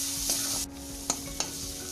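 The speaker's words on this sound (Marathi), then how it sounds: "असं हे वाटण आपण 2 मिनिटं परतून घेऊया, थोडंसं खरपूस झालं पाहिजे" Ground chili-tamarind paste sautéing in a pan, a steady close sizzle with a few sharp scrapes and taps of a spoon stirring, no voices.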